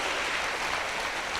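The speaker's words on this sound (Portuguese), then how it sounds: "Quem crê vai aplaudir o Senhor" A church congregation at a celebration service applauds, a dense, steady wash of clapping that fills the short moment without pause.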